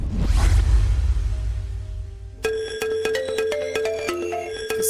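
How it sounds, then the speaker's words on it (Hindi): A phone ringtone starts halfway through with a bright, repeating electronic melody of sharp tones, ringing steadily and clearly after a dull whooshing rumble. "किसका फोन है?"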